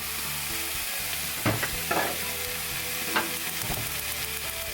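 Three-layer pork is stirred in a pot with sugar, giving a steady bubbling sizzle with a few soft scraping stirs and clunks rising above it, no voices.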